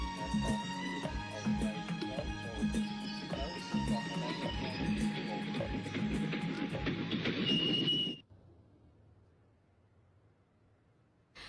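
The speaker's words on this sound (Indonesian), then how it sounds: "Keretanya datang." A train pulls into a station in a scene from the film Dilwale Dulhania Le Jayenge: a loud, dense rumble layered with sustained tones runs for about eight seconds, then cuts off abruptly into near silence.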